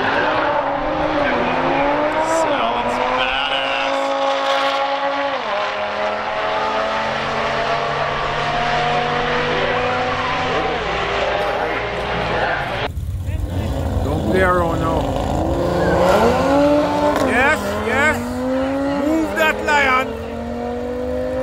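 Stage 2 tuned Audi RS3 and VW Golf R drag racing side by side, engines revving and climbing through gears loudly, then a sharp change to fresh acceleration with rising pitch sweeps near the end.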